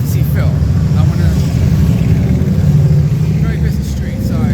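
Busy street traffic in Punxsutawney, Pennsylvania, a loud continuous rumble of engines and passing vehicles filling the whole span, close and steady, with a voice talking over it.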